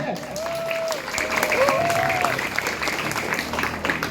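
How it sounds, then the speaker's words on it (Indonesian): Sustained crowd applause from an audience at a gathering, steady and dense clapping at moderate volume, with a voice speaking briefly over the start. "tepuk buat kita semuanya"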